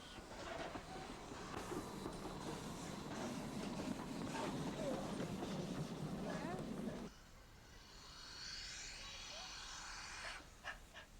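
A Great Western pannier tank steam locomotive runs steadily with rhythmic chuffing and rumbling, loud and close, then the noise drops away to a quieter, more distant rolling sound.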